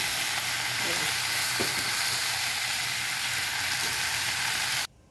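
Steady, dense sizzling of taro frying in hot oil, continuous and close, with a few faint stirring knocks, cutting off abruptly at the end.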